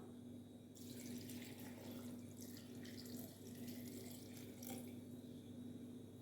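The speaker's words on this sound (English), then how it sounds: "Add your water." Steady stream of tap water pouring and splashing into a NutriBullet blender cup holding callaloo, carrot and ginger for juice, a continuous rushing flow lasting several seconds, close and alone with no talk.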